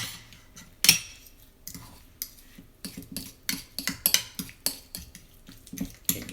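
Guacamole with lime juice is mixed in a bowl, the utensil scraping and clacking against it in uneven, wet strokes and taps.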